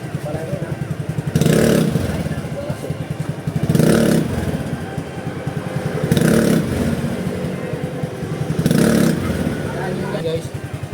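An Easyride 150Q/Fi motorcycle with a Sun Racing bell and clutch idles steadily, then revs four times in regular surges; someone talks over the engine throughout.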